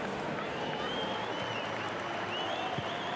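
Stadium crowd at a Perth Glory A-League football match applauding around the ground for the club's 20th anniversary, a steady broad wash of distant clapping and crowd noise throughout.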